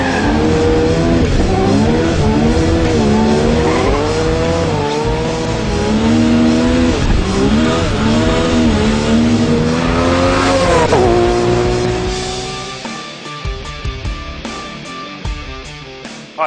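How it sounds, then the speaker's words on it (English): A 1000 hp Nissan GT-R R32 street-driven race car revs hard through rising and falling gear pulls, loud and close, then backs off to a choppy idle with sharp pops and crackles. "yes, it does get driven on the street, and yes, it can use the power."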